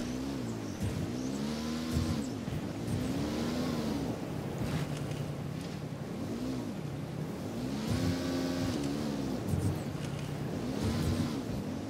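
A vehicle engine in the video game Ghost Recon Wildlands drones loud and close while driving, its pitch rising and falling repeatedly as the revs surge and ease, with a rough rumbling undertone throughout.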